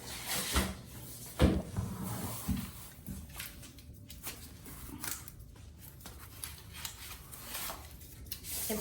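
Bathroom accent wall panel material being cut by hand: a few sharp scraping cuts up close early on, then quieter intermittent rubbing and handling noises, with no talking.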